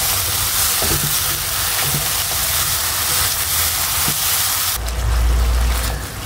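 A paste of sour curd, cashews and almonds is sautéed in oil for a prawn malai curry, making a continuous loud sizzle and bubbling with a few faint stirring knocks. A deeper rumbling surge comes in near the end.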